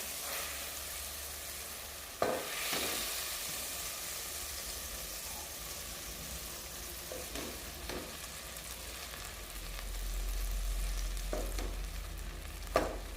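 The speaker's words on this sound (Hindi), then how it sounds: "इसलिए हम मक्खन का तड़का लगाएंगे" Steady soft sizzling of a butter tempering for dal makhani in a hot pot, continuous and low, broken by a few sharp clinks and scrapes of a utensil.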